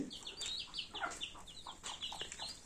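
Native country chickens cluck and chirp in a yard, with busy overlapping calls throughout and faint background sound, fairly quiet and at some distance.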